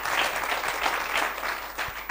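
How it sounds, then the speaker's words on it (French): A studio audience on a French-language quiz show applauds a correct answer, a short dense burst of clapping that stays steady and fairly close. "on peut applaudir."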